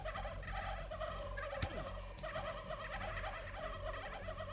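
Turkeys gobble over and over in the How to Survive 2 video game, a steady, fairly faint chorus of warbling calls layered over continuous game background sound.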